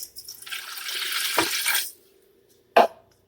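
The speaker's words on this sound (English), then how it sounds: "Now you just need to add a 1/2 cup of water." Half a cup of water pours into a pot of catfish, potato, onion and bacon stew in a short splashing stream, then silence and a single sharp clunk.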